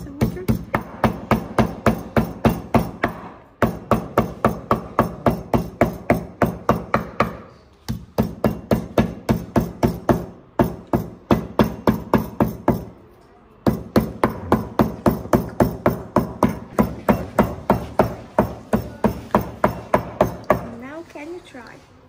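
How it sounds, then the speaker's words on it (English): Rapid, steady hammer blows beat water out of papyrus slices for Egyptian papyrus paper, struck in long even runs with brief pauses between bursts, close and loud. "we use the hammer and trolling for getting the water out and for make them very flexible"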